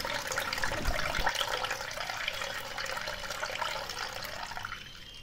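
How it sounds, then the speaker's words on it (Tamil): Cooled milk is poured slowly into beaten eggs for a stovetop bread pudding, giving a steady, close trickle and splash of liquid that runs without a break. "நம்ம ஆற வச்ச பாலை எடுத்து கொஞ்சம் கொஞ்சமாக அப்படியே விடணும்"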